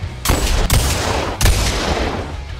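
Loud gunshots from a gun in the VR game Boneworks: two sharp cracks, a little over a second apart, each ringing into a dense reverberant tail.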